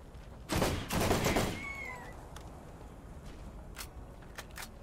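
Gunfire in the video game Borderlands 1 Remastered: a loud short burst of rapid shots up close, followed by a fading whine and quieter scattered game sounds.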